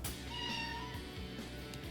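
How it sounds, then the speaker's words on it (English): A domestic cat meows close by in a kitchen during cooking, giving one drawn-out, wavering meow that stands clearly above a low steady background hum, with no talking. "that's my cat, Sammy."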